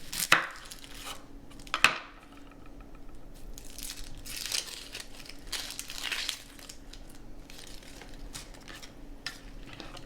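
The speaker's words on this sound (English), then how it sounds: "The next step is to cut my onion up." A knife chops an onion on a cutting board for a cabbage casserole, with two sharp, close thuds near the start, then softer, irregular cutting and crinkling sounds over a steady low hum, with no voices.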